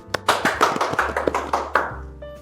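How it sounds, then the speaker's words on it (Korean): Clapping from an audience at a Korean AMD business event as a commercial-division executive is introduced, a sparse run of distinct, fairly close hand claps with no voices over it. "박수 부탁드립니다."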